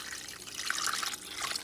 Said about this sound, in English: I'm going to add 4 cups of water here